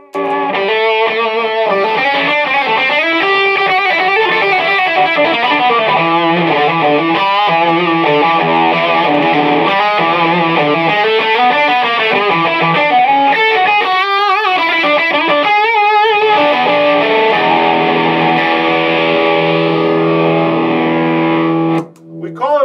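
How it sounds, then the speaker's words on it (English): An electric guitar plays through thick fuzzy overdrive, a buzzing saturated tone sustaining loudly through chords and riffs. "Distortion, but it's really a fuzzy overdrive is a better terminology for it."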